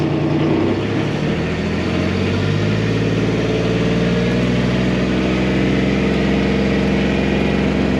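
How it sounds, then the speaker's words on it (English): A vehicle engine rumbles steadily after being put in gear and given gas, a loud continuous low drone with no talk. "So now put it in gear and just step on the gas."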